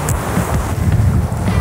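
Strong wind on a seaside beach during a surfcasting fishing trip, loud buffeting gusts rumbling steadily across the microphone with surf-like noise beneath, no voices.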